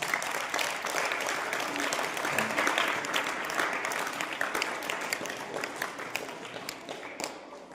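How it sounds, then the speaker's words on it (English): A school audience claps for participants at an English speech competition, a dense sustained round of applause that swells early and then thins slightly toward the end, with scattered louder claps close by. "Please give them also a big round of applause."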